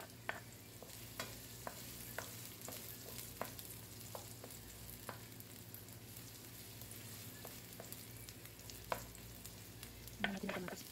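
Ginger and onion sautéing in a pan, with a steady close sizzle and intermittent scrapes and clicks of stirring throughout, no voices.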